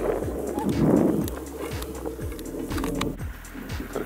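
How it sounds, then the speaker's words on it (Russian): Tractors run in the distance, a low rumbling engine drone with repeated rhythmic knocking pulses, steady and moderately loud throughout. "Трактора проснулись."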